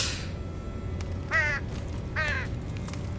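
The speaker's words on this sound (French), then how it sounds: "Ah, corbeau!" A crow in the Prototype video game gives two harsh, raspy caws about a second apart, moderately loud over a steady background hiss.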